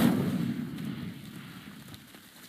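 A fire spell cast in the video game Hogwarts Legacy bursts with a loud, rumbling low roar at the start, then fades over a couple of seconds into a soft crackling tail.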